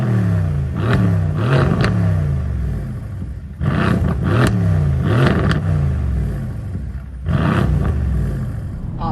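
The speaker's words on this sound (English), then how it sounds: "when you put this car in Sport or Sport Plus, I think it amplifies some sort of speaker noise of the engine" A Mercedes C63 AMG engine in Sport mode revs in three loud, deep, throaty bursts, each swelling and falling back, heard close and alone over a constant rumbling idle.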